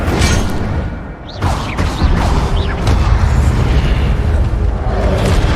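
Incendio fire spell cast in a video game, loud bursting whooshes and booming blasts layered over a continuous roaring background, with several sharp swept hits in quick succession.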